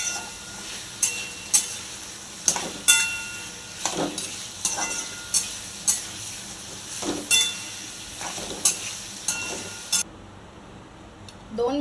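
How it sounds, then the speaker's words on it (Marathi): Potato pieces and green beans frying in hot oil in a kadai, a steady sizzle broken by regular sharp scraping clatters as they are stirred, close and moderately loud, ending abruptly. "गरम तेलात बटाटा घातला, फरसबी घातली, 1 ते 2 मिनिटं तेलामध्ये परतून घेतली।"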